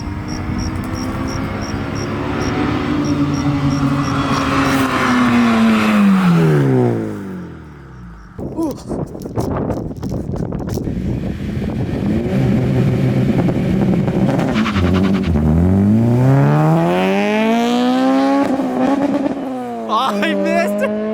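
Modified 8th-generation Honda Civic Si with a full race exhaust revs hard, climbing and dropping in pitch through two loud pulls with a brief lull between, and people talk over it.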